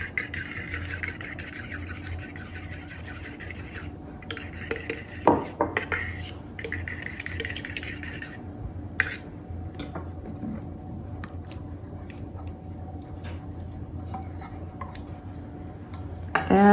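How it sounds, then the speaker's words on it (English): Egg and melted butter being whisked in a bowl, with the utensil clinking and scraping against the dish in a steady run, a few sharper knocks along the way, and no talking. "to just get that egg whisked up real good"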